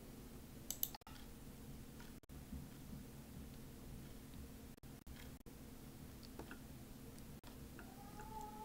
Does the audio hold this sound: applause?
no